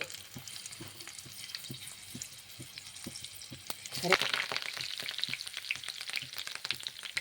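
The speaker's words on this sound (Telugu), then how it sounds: "ఆయిల్ కాగిన తర్వాత మెంతులు ఆవాలు ఎండిమిర్చి" Fenugreek, mustard seeds and dry chillies fry in hot oil for tempering. Light sizzling with faint regular ticks swells midway into a louder, dense crackle and spatter that carries on to the end.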